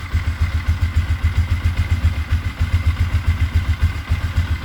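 A 24-year-old quad ATV engine idles on choke while warming up, a steady low, lumpy putter with a loose mechanical clatter, close and continuous throughout.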